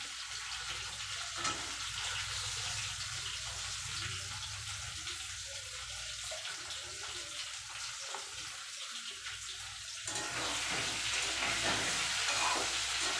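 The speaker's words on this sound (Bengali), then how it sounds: "আমি এবার টমেটোটা আলুর মধ্যেই দিয়ে দেবো, একবারে মশলাটা কষিয়ে নেব" Potatoes frying in oil as tomatoes and spices are added and stirred, a continuous close hiss that swells louder and brighter near the end.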